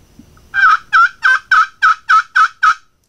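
A wooden Primos Tac Ops turkey call worked to imitate a gobble, producing eight rapid, evenly spaced, loud nasal yelps close to the listener, with no talking.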